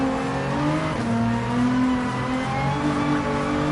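A race car in Gran Turismo 7 holds full throttle, its engine droning loud and close with a steady high whine that shifts pitch slightly as it pulls through a corner.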